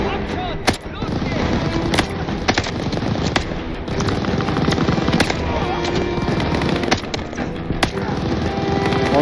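Gunfire in the Call of Duty Vanguard campaign: rapid bursts of tap-fired shots crack out loud and close, dense and overlapping in quick succession over a steady rumble of battle, sustained for several seconds.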